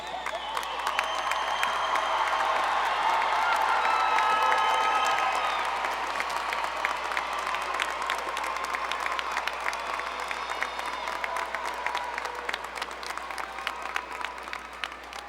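Prolonged applause for graduates at a 2017 commencement ceremony, a large crowd clapping loudly with scattered cheers and whistles, peaking early and then continuing at a slightly lower, steady level.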